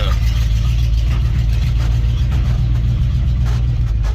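A 1986 Dodge W150 pickup truck engine drones steadily while driving, a loud, close low rumble with faint road noise and no voices.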